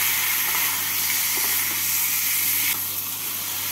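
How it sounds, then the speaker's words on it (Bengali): Eggplant and potato being stirred with spices in a hot pan for tangra fish curry: a constant, close steamy hiss and sizzle with a few soft scrapes, easing slightly near the end. "বেগুন আর আলুগুলোকে মশলার সাথে নাড়াচাড়া করে নিচ্ছি।"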